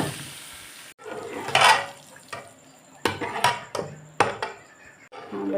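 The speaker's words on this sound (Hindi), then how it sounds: "अभी मैं छिड़का लगा रही हूँ दाल को" Dal being tempered in a home kitchen, with spices crackling and sizzling in a pan in short bursts and sharp pops, alongside stirring and clinking of utensils, with no talking.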